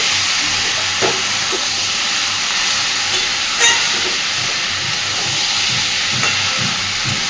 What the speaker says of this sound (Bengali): খুব ভালো করে এবার গ্যাসের ফ্লেমটাকে মিডিয়ামে রেখে কষাতে থাকবো।